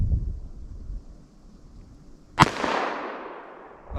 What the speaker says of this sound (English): So let me just fire one single action, aiming center, see where this hits.